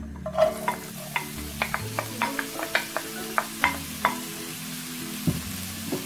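Onions and chilli fry in hot oil in a pan, a low steady sizzle broken by a string of sharp, close clicks and taps from stirring.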